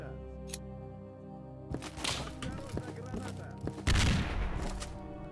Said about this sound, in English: I was being shot at, but I don't know from where.